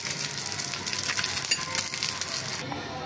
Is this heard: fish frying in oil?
yes